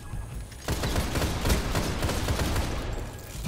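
Rapid gunfire in a video game duel starts abruptly and continues as a dense, loud burst of overlapping shots, with no talk.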